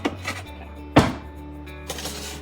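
A utensil knocking against a pan while meatballs are mixed in it, giving a few scattered clunks and taps, one louder knock near the middle, over a quiet background.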